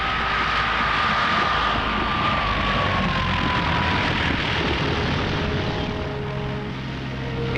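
Light bush plane touches down in a remote forest clearing in the Llanos, its engine a loud, steady drone with a slowly falling whine that eases near the end, with no talking.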